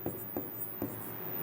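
Chalk or marker writing on a classroom board during a geometry lesson, a few short scratchy strokes tapping out in quick succession, faint and close over a quiet room.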